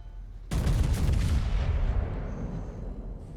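Heavy naval guns boom in a World of Warships battle, a sudden loud volley opening into a rolling roar that slowly fades with no talk over it.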